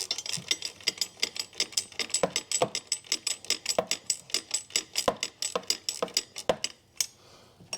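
A ratchet clicks in quick, regular bursts of sharp ticks, close and loud, as a bolt is tightened on a 2016 Ford Focus 1.5 TDCi, stopping briefly near the end.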